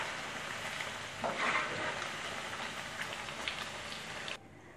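Paneer cubes frying in hot oil in a kadai give a steady, close sizzle with crackling bursts, which cuts off abruptly near the end.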